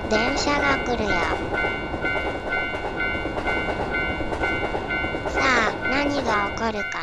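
An animated ghost train rumbles and clatters steadily with a whistle-like tone, while voices rise and fall over it at the start and near the end.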